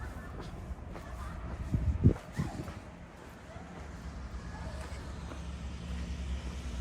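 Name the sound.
bus driving past on street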